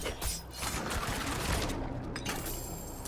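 Rapid volleys of arrow impacts from the Barrage skill of a Shadow Archer in Diablo IV, a dense, continuous crackling burst of hits under game effects.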